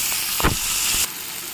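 Chopped tomato goes into a hot pan and is stirred, a loud hissing sizzle with a couple of brief scraping stirs before the sizzle drops to a quieter level.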